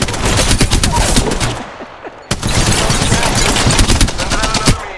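Rapid video-game gunfire bursts loud and close, a dense automatic rattle that drops out briefly for a second before resuming with sharp repeated shots.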